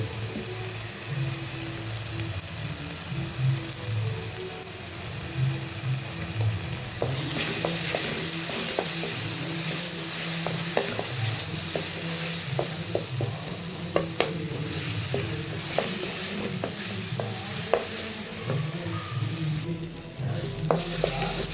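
Masala of tomato, turmeric and chili powder frying in oil in a pan for a dondakaya dish, with a steady close sizzle and frequent spoon scrapes and taps as it is stirred.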